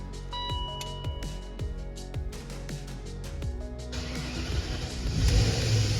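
A custom engine-swapped car (E24 with an L21 engine) fires up for the first time after cranking, settling into a rough, uneven idle that grows louder toward the end, heard up close with no talk.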